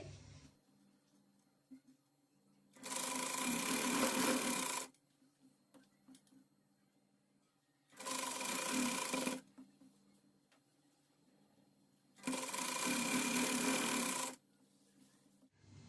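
A sewing machine stitches a folded salwar waistband in three long, even runs separated by quiet pauses, close and clear.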